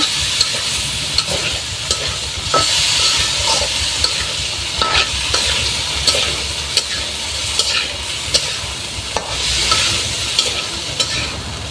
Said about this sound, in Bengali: এবার চাল কুমড়া মাছ একসাথে কষানো হবে